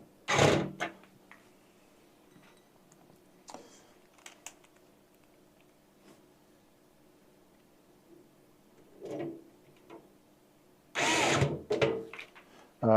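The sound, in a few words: electric screwdriver driving screws in a PC build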